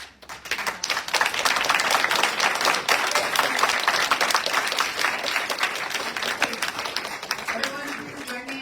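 A live audience at the Inspiration Project 2025 applauds the storytelling participants. Dense, sustained clapping fills the space at a steady level and softens slightly near the end as a voice returns.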